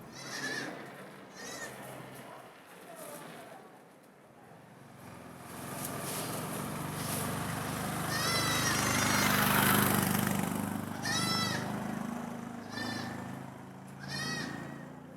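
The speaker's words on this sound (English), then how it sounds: "Street crossing goats are the best surprise." Several goats crossing a street in rural Chongqing countryside, China, bleat in wavering, quavering calls over a low rumbling background, some close and some farther off, with a few overlapping.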